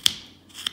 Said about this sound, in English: So stop cut and carve towards the stop cut.